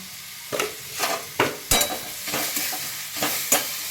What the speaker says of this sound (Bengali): একটু ভালো করে নাড়াচাড়া করে নিই।